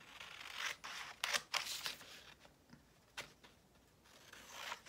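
Scissors cut slowly through paper to make pockets for a journal, a series of close, quiet snipping and crisp rustling strokes with short pauses between them.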